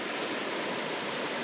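Steady rushing white water from a waterfall in Shenandoah National Park on the Appalachian Trail, a dense, even hiss heard up close with no voices.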